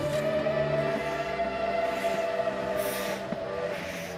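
A coal-driven steam train runs with a steady, continuous rumble and a sustained tonal hum. The sound stays close and fairly even throughout, with no voices.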